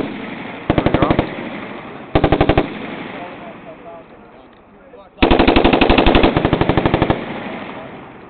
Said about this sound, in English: Put bullets down range.